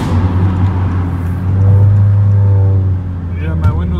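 Tuned exhaust of a 2019-2020 Honda Accord Sport 1.5T heard from inside the cabin, a loud low steady drone that swells in the middle while cruising.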